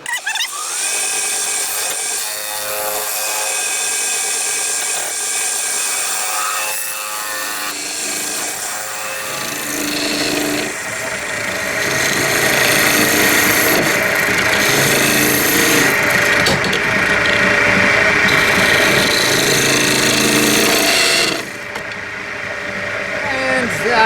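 A woodturning tool cuts deep into a spinning sycamore and resin blank on a lathe, a continuous harsh scraping and whirring that swells louder partway through, with a voice talking at times.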